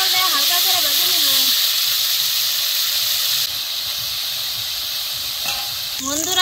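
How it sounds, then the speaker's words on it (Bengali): River prawns frying in hot oil make a steady, loud broadband sizzle throughout, with a voice heard faintly under the hiss early on. "এদিকে তেল গরম হয়েছে, এখন আমি সব চিংড়ি মাছ দিয়ে দিব।"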